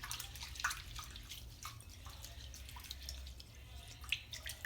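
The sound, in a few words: rinsing wheat under running water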